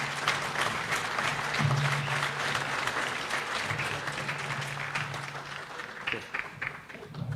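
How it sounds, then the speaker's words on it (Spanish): Audience applause at a political event in Bolivia, steady clapping from a crowd that carries on for several seconds with a low hum underneath and brief voices near the end. "Un fuerte aplauso."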